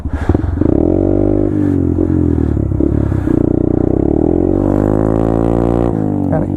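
A Honda Grom (MSX 125) motorcycle engine buzzes loudly and continuously, its pitch rising and falling with repeated revs, close up and without speech.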